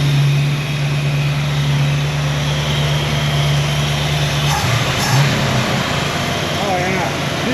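A warmed-up carbureted engine with a mechanical fuel pump idles steadily with a dense, continuous hum that shifts slightly partway through.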